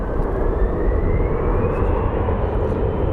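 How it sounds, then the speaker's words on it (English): Delta Connection Embraer regional jet passing at an airport, a steady broad roar with a slowly rising whine, continuous and fairly close, with no voices. "We have our Delta Connect Embraer over there, headed to LAX."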